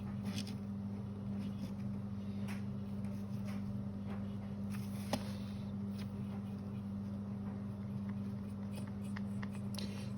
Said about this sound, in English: My washing machine and tumble dryer are going,